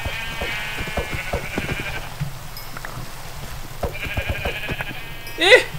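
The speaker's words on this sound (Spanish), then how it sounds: "ovejas." Sheep bleating in Minecraft, two drawn-out wavering bleats, one early and one later, over a busy bed of clicky game sounds and low hum, with a short bright chime near the end and some speech around it.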